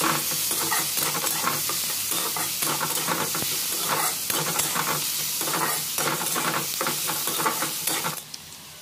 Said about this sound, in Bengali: পেঁয়াজটা নাড়াচাড়া করে হালকা ভেজে নিতে হবে।